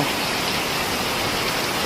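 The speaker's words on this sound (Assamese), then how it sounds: "পূৰা বৰষুণ দি আছে, পূৰা ফাটাফাটি বৰষুণ।" Heavy rain pours down in a dense, unbroken roar of drops hitting surfaces, loud and close with no pauses.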